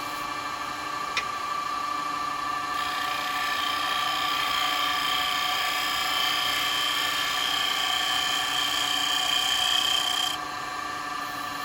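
A woodturning tool being sharpened on a grinder, a steady continuous high whine and rasp that grows stronger midway and drops back near the end, with no talk.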